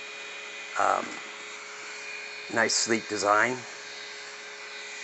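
A steady, airy whir of a JISULIFE Pro bladeless neck fan running on high, constant throughout, with a person speaking briefly over it twice.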